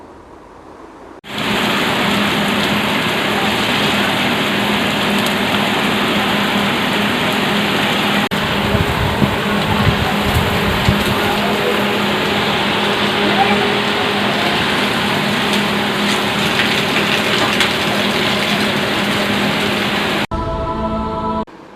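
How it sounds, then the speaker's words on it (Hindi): Light rain falls in Rohtak city, a steady broadband hiss that starts suddenly and holds at an even level for about twenty seconds before cutting off. "हालांकि बरसात ज़्यादा तेज़ नहीं हुई और ज़्यादा देर तक भी नहीं हुई"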